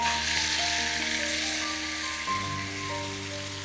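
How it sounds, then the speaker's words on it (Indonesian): Beef with marinade spices sizzles loudly in hot frying oil for soto daging santan, a close, continuous crackling hiss with steady tonal hum underneath and no talk. "Langsung masukkan dagingnya beserta bumbu marinasinya ya."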